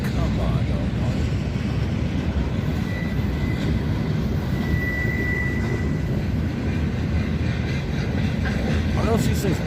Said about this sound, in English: When's the last time you seen a whole bunch of turbine blades rolling down the railroad